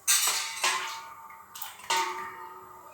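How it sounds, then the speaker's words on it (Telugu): Water being added with a bowl into a pan while making Bellam Palathalikalu, heard as a few close clattering pours and splashes with sharp onsets, no voices. "అదే బౌల్తో నేను ఇక్కడ వాటర్ యాడ్ చేసుకుంటున్నాను"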